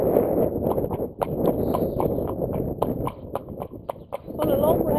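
Horse hooves clip-clop at an unhurried walking pace on a road, close by, with a voice talking over the steady rhythm.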